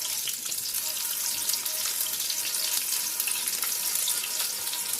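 Chicken frying in a deep fryer makes a steady, dense hiss of bubbling oil, close and continuous, with no voices.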